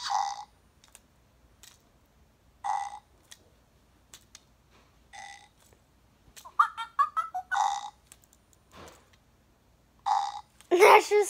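A Fingerlings toy held upside down makes short electronic burping sounds, several separate bursts with quiet gaps, plus a longer run of toy noises near the end; a person talks between them.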